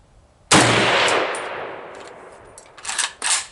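An AK-47 rifle at an outdoor range lets off a single loud shot that booms and rolls away in a long decaying echo, followed by a couple of fainter clanking knocks near the end.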